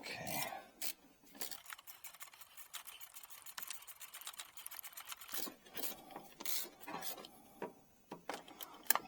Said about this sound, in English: get our handy dandy wrench and socket, move that into place